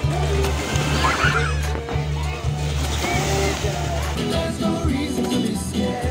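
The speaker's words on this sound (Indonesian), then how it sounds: "Sekarang yuk kita coba the wave pool atau kolam ombak." Water sloshing and splashing in a wave pool at an outdoor water park, a steady wash of surging water with a low pulsing rumble throughout, crowd ambience and faint voices mixed in.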